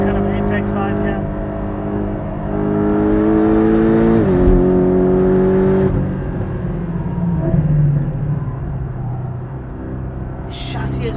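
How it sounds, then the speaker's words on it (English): A Porsche 718 Cayman GTS engine at speed on the Kyalami racetrack: a loud, close, steady howl that rises through the revs, dips at a shift, then carries on with rumbling road noise. "the noise is wonderful, and you can probably hear it behind my head"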